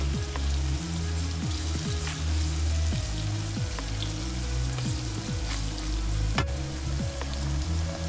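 Curry lamb stew sizzles steadily in a pot, a dense, loud, continuous crackle and hiss with faint clicks and no talking.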